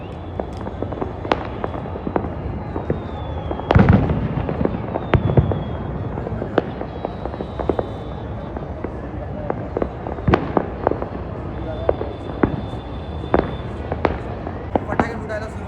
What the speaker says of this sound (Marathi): फटाके फुटायला सुरुवात झालेली आहे